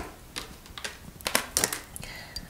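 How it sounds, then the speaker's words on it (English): A deck of cards shuffled close up during a card reading: a quick sequence of crisp, papery riffling bursts and soft flicks, loudest in the middle, with no voices. "Let's go ahead and shuffle this deck of cards"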